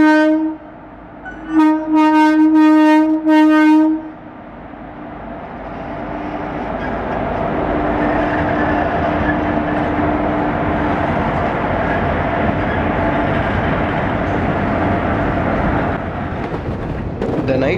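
The Punjab Mail passenger train sounds a loud multi-tone horn in two blasts near the start, then rumbles past with a steady, building roar of wheels and carriages that holds close and loud to the end.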